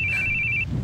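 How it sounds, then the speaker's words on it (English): Phone ringtone in a video game: a single steady high electronic tone lasting just over half a second, clear and moderately loud over a low background. "Your phone is ringing."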